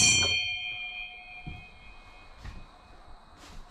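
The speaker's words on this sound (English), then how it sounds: "When you hear that bell ring, that means food." A ship's-wheel dinner bell in an old kitchen rings with one bright, loud metallic clang whose tone slowly fades, followed by fainter knocks and two softer chimes later on.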